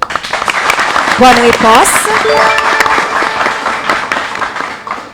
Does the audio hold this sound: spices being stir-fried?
no